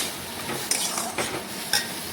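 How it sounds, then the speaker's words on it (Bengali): A spoon stirs turmeric through ridge gourd and potatoes in a pan, making soft scraping and sizzling with a few light metallic clinks in quick succession. "ভালোভাবে নাড়াচাড়া করে মিশিয়ে নেব। এইভাবে ঝিঙে আলুর সাথে মিশিয়ে নিলাম।"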